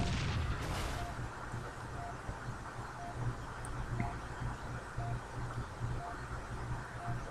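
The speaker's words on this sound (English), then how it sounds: "I'll throw a grenade here to try to get them out from hiding behind the corner of that building." Grenade blasts and combat in Halo 3 ODST, a burst of booming noise at the start followed by rumbling low thuds and a faint repeating electronic beep under steady game ambience.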